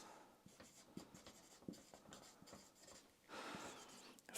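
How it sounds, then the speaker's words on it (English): Pen scratching across paper in short, uneven strokes, a steady quiet scraping with a few sharper taps and a denser, louder stretch of writing near the end, with no voices. "so let me write this."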